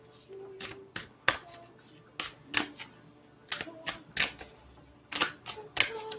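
Oracle cards shuffled by hand on a table, a string of crisp, irregular slaps and riffling bursts, close and fairly quiet with short pauses between them.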